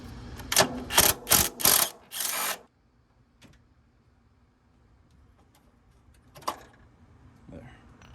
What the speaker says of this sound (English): Using 18mm socket, we're going to remove this bolt right here so we can take out the motor mount.